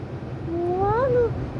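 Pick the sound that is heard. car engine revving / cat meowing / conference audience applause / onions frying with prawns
cat meowing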